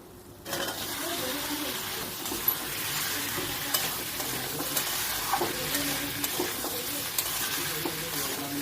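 Boiled potatoes go into a pan for fish curry and fry with steady sizzling and stirring scrapes, moderately loud and continuous, with faint bird cooing in the background.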